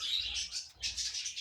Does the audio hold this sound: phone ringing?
no